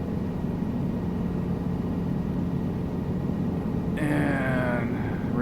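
Helicopter engine in Microsoft Flight Simulator 2024, a steady loud droning rumble throughout, with a brief rising whine and electronic tones joining near the end.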